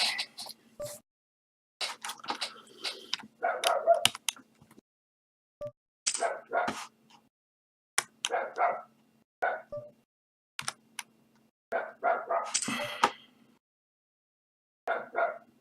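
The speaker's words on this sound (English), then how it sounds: "That dog." A dog barks in repeated bursts of varying length with short silent gaps between them, fairly close and loud, with no one talking over it.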